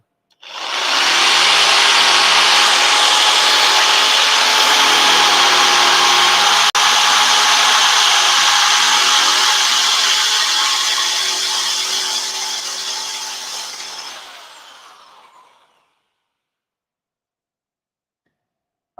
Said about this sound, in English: let's drill into the clutch of a R34 GTR.